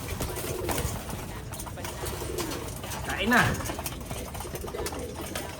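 A pigeon gives a soft, throaty coo partway through, over steady outdoor background noise, with a person speaking briefly.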